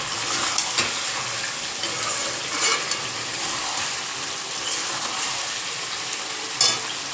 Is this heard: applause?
no